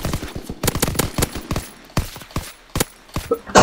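Rapid gunfire from the World War II shooter game Call of Duty: WW2 cracks out in loud, close bursts and single shots, with brief gaps between the volleys.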